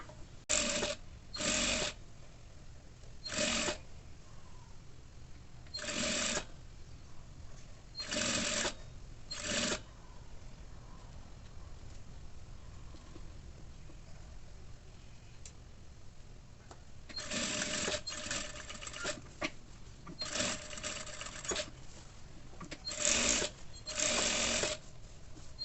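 A sewing machine stitches the finish on a panty waistband in short, quiet bursts of rapid whirring, separated by pauses, with a longer cluster of bursts near the end.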